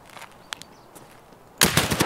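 Burst of gunfire from Escape From Tarkov inside a factory area, loud and dense near the end after a few faint isolated shots and quiet background.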